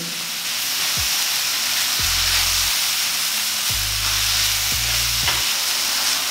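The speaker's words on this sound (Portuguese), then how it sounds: "Já dei uma fritadinha aqui nos nossos cogumelos" Mushrooms fry loudly in a pan with onion, garlic, miso, sugar and ginger. A constant close sizzle is broken by a few stirring scrapes and a low hum.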